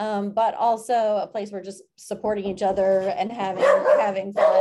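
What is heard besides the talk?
dogs barking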